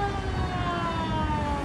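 Fire brigade siren wailing continuously at an accident scene in Canada, a steady loud tone with slowly drifting pitch, traffic rumble underneath and no talk.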